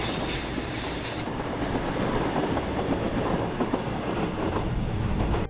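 Train crossing the railway bridge beside Conwy Castle, a steady rolling rumble with wheel clatter and a brief high squeal early on, fairly close and continuous, no voices.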